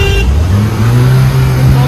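A modified Mahindra Thar petrol engine with a loud aftermarket exhaust is heard close up, its revving tone rising and holding strong and steady. A voice can be heard briefly.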